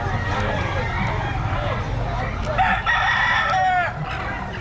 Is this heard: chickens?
yes